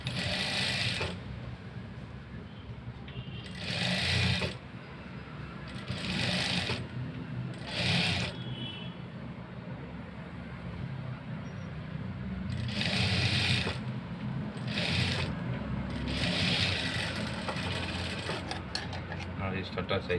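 A sewing machine stitches trim onto fabric in several short bursts of rapid chatter, separated by pauses, with someone talking between and over the runs.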